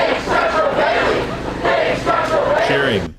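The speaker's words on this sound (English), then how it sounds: "Cheering." A large crowd cheers and yells in loud, sustained bursts, swelling twice with a brief dip between, then cutting off abruptly.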